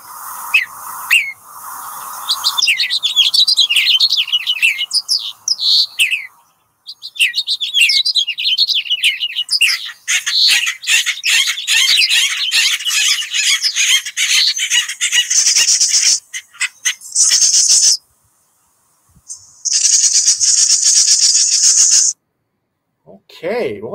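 Wild birds sing in oak woodland at Calero County Park, with several overlapping chirps, trills and tweets in close succession, loud and near, broken by short pauses, with a faint voice briefly at the start.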